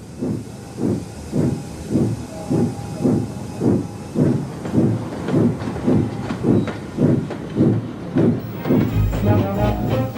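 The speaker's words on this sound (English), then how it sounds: "Gordon chuffed slowly through the countryside" A steam engine train pulling slowly out of a station, giving loud, evenly spaced chuffs of steam that keep a slow, regular rhythm, with hissing between the beats.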